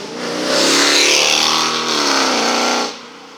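A big car revs its engine hard as it drives past on a town street, loud and close, swelling and then fading away as it leaves.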